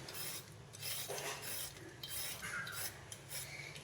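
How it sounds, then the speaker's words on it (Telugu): Rough skin being scraped off bitter gourds in a home kitchen: soft, close rasping strokes repeating in a steady back-and-forth rhythm, quiet and alone. "కాకరకాయలు గరుకుగా ఉండేదంతా ఇలా గీరేసుకోవాలి"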